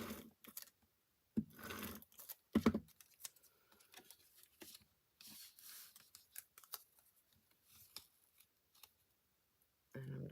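Scissors snip and trim paper for a folded card, the cuts arriving as a few sharp, close bursts spread across the stretch, with light handling rustles between them and no talking.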